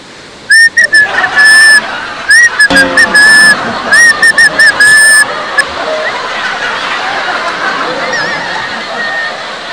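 Loud, shrill whistling in repeated short bursts with a rising-falling tune, stopping partway through, leaving a steady background hiss of water or traffic.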